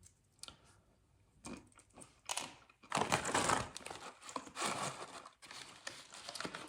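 Pistachio nuts are cracked open and eaten up close, with sharp shell cracks, crinkly rustling of shells and chewing crunches in irregular bursts between quiet pauses.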